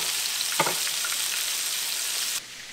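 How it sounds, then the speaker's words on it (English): Steady crackling sizzle of wet-battered fish fillets deep frying in hot oil, continuous and close, with a brief clink near the start and the sizzle dropping suddenly near the end. "the fish are frying"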